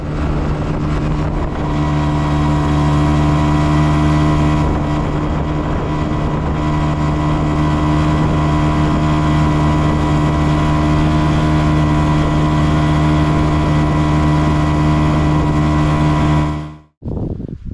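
A Hangkai 6 outboard motor on a small boat runs steadily close by during break-in with a new propeller, its loud even drone holding for about sixteen seconds before it cuts off abruptly near the end.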